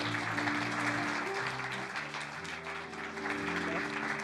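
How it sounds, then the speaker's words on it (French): Studio audience applauding warmly as a guest, Monsieur Michel Pommeret, is welcomed onto a French television show, a dense continuous clatter of clapping hands with no voices over it. "On peut l'applaudir bien fort,"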